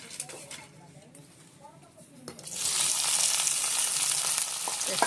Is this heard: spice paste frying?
yes